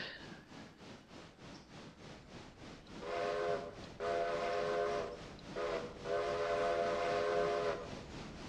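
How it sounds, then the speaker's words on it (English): Steam train whistle in the Railroader video game, sounding in several long blasts of different lengths over a rhythmic chuffing and rolling of the locomotive and cars. "You're not really worrying about that whistle."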